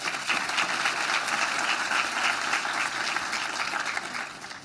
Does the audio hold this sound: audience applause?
yes